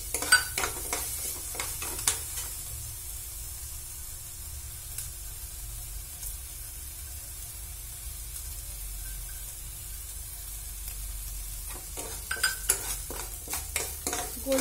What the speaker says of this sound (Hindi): इसलिए हम चावल को थोड़ा सा फ्राई करेंगे